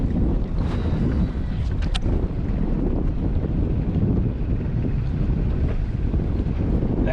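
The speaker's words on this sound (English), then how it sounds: "The wind just shifted and now it's railing out of the north." Strong wind gusting across an open boat on the water, a steady loud roar with microphone buffeting that holds throughout without any talk.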